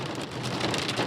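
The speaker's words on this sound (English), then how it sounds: "Rain pounded the windshield, making it hard to see the mountain road." Heavy rain pounds the windshield of a Mitsubishi Galant on a mountain road, a dense, even patter of drops heard briefly and close with no voices.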